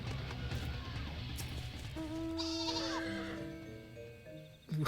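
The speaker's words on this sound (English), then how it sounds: "What was that sheep?" A sheep bleats in the Final Fantasy XIV video game, a clear wavering call rising over soft in-game background music, heard alone without talk.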